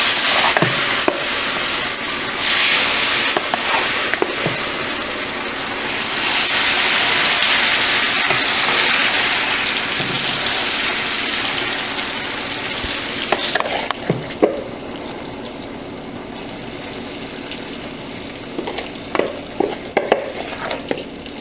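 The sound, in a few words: plantain slices frying in hot oil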